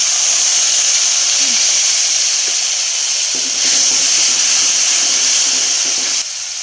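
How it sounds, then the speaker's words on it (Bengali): Water poured onto chili and turmeric in a hot pan sets off a loud, steady steaming hiss and sizzle that runs throughout, swelling briefly midway and easing slightly at the end. "এবারে এই লঙ্কা হলুদগুলো জলটা দিয়ে দেব।"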